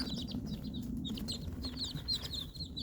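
Baby chicks cheep in a series of high, thin peeps over a low background rumble, several birds overlapping at close range, quiet throughout.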